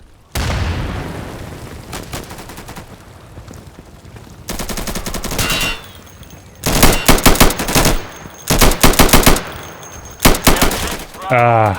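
Automatic gunfire in Insurgency (2014) rips out in several loud bursts, with rapid rattling volleys separated by short pauses and a brief exclamation from a voice.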